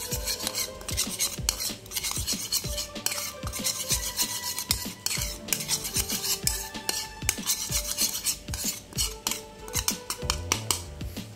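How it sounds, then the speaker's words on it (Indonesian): Betel leaves are stirred in mineral water in a bowl, a series of rhythmic scraping and rubbing strokes about twice per second with light clinks from the utensil, and nobody speaking. "Lalu diaduk hingga sari dari daun sirih ini keluar"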